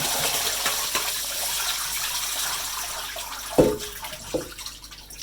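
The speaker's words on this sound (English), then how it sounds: "we'll take a colander. We'll drain them up." Water and boiled käsespätzle noodles pour from a pot into a colander, a steady gushing rush with a couple of sharper splashes and clunks near the end.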